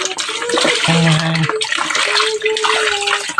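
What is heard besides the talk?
water poured from a dipper to wash chicken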